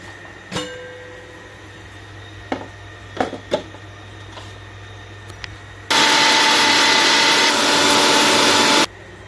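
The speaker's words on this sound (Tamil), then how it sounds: "இதை மிக்சி ஜாரில் போட்டுக்கோங்க. இதை போட்டுட்டு இதை நம்ம நைஸாக இப்போ ஒரு பொடி அரைச்சிக்கலாம்." A kitchen mixer grinder grinds cooled roasted ingredients into powder for small onion thokku, a loud, dense whirring roar lasting about three seconds that starts and stops abruptly, after some scattered knocks and clatter.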